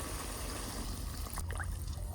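Water is poured into a pan of fish curry with tomato, giving a steady close trickle and wash of liquid over a low rumble, ending in a few brief splashes, with no voices.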